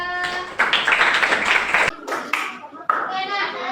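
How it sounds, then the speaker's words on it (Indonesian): Students in a school classroom clap for a student group, a short burst of close, uneven hand clapping mixed with children's voices and chatter. "tepuk tangan untuk kelompok 3"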